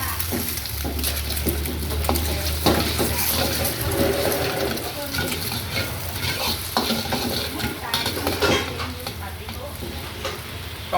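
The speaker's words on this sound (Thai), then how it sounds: "หลังจากนั้นใส่ไข่นะครับสองฟอง" Two chicken eggs frying and being stirred in a hot wok with oil and garlic, a steady loud sizzle broken by repeated scraping strokes of a spatula, with brief talk now and then underneath.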